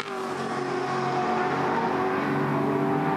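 Touring car racing engine at Bathurst in a 2013 Touring Car Masters race, a loud, steady, sustained roar at high revs with strong harmonic engine tones throughout, heard alone without talk.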